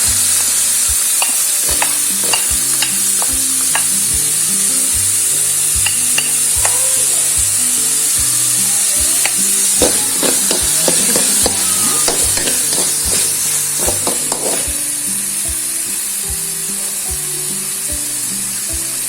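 Chopped carrots stir-fry in a hot pan for nasi goreng, with a continuous bright sizzle and repeated scraping and clacking of a spatula against the pan, close and loud, easing slightly near the end.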